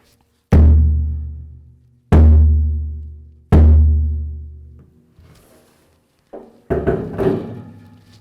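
A samba surdo primera bass drum is struck three times at even intervals, each a deep, booming hit that rings out and decays, followed by quieter shuffling and a few sharper knocks near the end.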